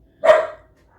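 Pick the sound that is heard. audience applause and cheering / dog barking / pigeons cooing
dog barking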